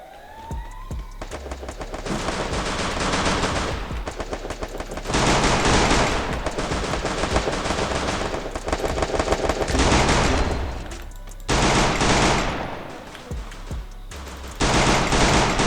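Rapid bursts of automatic gunfire in the Free Fire battle royale game, loud and close, firing in long sustained volleys broken by brief pauses, with sharp single shots between bursts.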